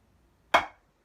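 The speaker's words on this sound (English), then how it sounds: "So a flam consists of a tap" A single sharp snare-style drum flam, a grace tap just before the main stroke giving a slightly doubled attack, crisp and close, decaying quickly into silence.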